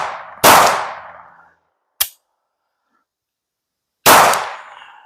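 Glock 19 pistol fitted with an Oden barrel firing at a range: two loud, sharp shots with echoing decay and a faint click between them, separated by near silence.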